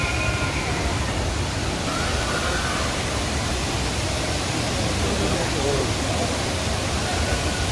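Thoseghar waterfall roaring as a steady, broadband wash of falling water, constant and loud with no breaks, heard from nearby.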